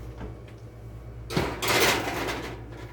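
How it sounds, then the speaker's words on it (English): An orange cranberry almond biscotti tray slides onto the top rack of an oven with a single scraping, clattering metal shove midway, followed by a lingering rattle and quiet kitchen hum. "now we're going to pop this on the top rack of our oven."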